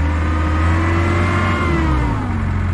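A turbocharged engine on a machine bought at auction runs with a loud, steady mechanical drone. Its pitch rises slightly and then eases back over a few seconds, heard up close without voices.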